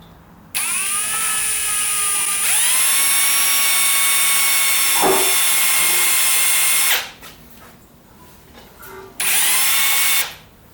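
A power drill whines loudly as it works a bolt on a mower engine, running in a sustained high spin, briefly stopping, then whirring again in a shorter burst.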